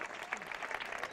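An audience at a housing rights rally in Catalonia applauds, a dense, continuous burst of clapping heard from within the crowd.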